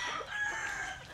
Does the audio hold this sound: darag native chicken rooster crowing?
yes